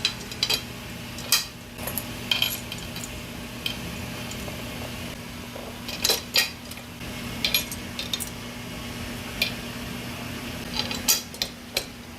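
Metal fender washers, regular washers and nuts clink lightly as they are fitted on bolts during a mudflap replacement, scattered sharp chinks in small clusters over a steady low mechanical hum.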